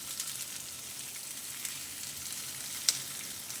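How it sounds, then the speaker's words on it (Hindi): Egg do pyaza tadka sizzles steadily in hot oil, a soft, even hiss with no talk. A tiny click comes near the end. "ये जी हम अंडा 2 प्याज़े का तड़का तैयार कर रहे हैं।"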